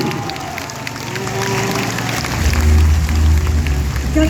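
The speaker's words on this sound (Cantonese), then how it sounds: "一齊再一次俾掌聲相對。" Audience applause swells at an inter-school volleyball match, a dense, steady wash of clapping that grows louder partway through, with a low rumble and crowd noise underneath.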